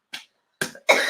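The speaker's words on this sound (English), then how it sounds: "We're at week 10 with this cough." A person coughing, a short dry burst followed after a pause by two harsher, louder coughs close to the microphone, with no talking during them.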